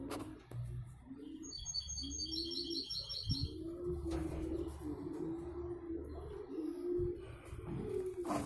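Pigeons coo repeatedly in low, rolling phrases, joined by higher chirps and tweets from birds nearby, in a steady outdoor loft setting with no one talking.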